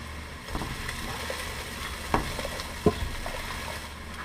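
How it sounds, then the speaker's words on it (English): Spoon stirring chicken and dumplings in a pot, a faint low simmer with a few soft scrapes and clicks of the utensil against the pot, quiet throughout and without speech. "once again when I'm done with that, I start stirring again"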